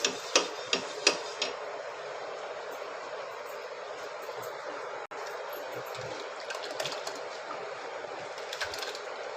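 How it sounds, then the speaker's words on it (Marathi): Oil is spread across a hot tawa, starting with a few quick scraping taps and then a steady, soft sizzling hiss that carries on evenly to the end. "तेल लावून ठेवते"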